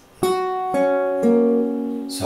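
Measure 30 of a song is played fingerstyle on acoustic guitar: three plucked notes ring out one after another, sustaining with clear harmonics, and a final strum or brush sounds at the end. No one talks over it.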